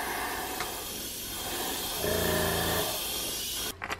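An airbrush hisses pearlized white paint onto a fishing lure in a steady, close spray, with a brief stronger burst midway and a clatter at the end.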